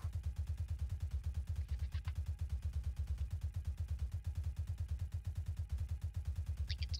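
The Gmini weapon fires in a video game as a steady, rapid stream of evenly spaced low thumps that runs without a break for the whole stretch. It stays fairly quiet, with a couple of faint higher blips on top.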